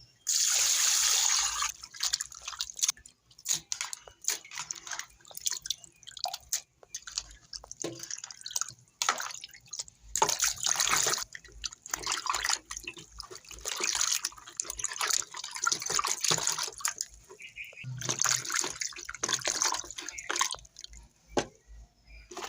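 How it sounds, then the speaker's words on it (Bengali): Leafy greens, gourd leaves, being washed under running water, with splashing, dripping and trickling in uneven bursts, fairly faint and close, no speech. "শাকগুলাকে ধুয়ে নিই।"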